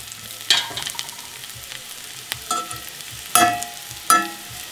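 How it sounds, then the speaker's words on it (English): Onions and peppers sizzle steadily in a frying pan, a continuous crackling hiss broken by several louder bursts as the vegetables are stirred and pushed aside, close and clear with no talking. "we're going to move the onions and peppers kind of over to one side"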